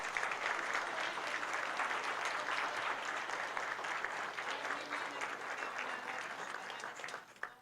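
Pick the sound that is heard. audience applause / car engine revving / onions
audience applause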